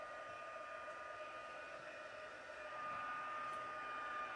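Continuous steady whooshing hum of a heat tool melting embossing powder on a slimline card, close and unbroken, slightly louder near the end, with no talk.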